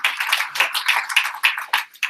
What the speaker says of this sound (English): Can you give Jackie a round of applause?